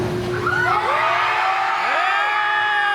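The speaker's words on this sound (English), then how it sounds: "They were screaming that loud." Riders on a roller coaster at Six Flags Magic Mountain scream together in long, rising and falling shrieks, loud and sustained over a rushing background roar.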